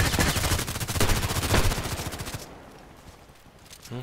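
Rapid automatic gunfire from the video game Contract Wars, close and loud, in quick rattling bursts for a couple of seconds before dropping to quiet background noise with a brief thump at the very end.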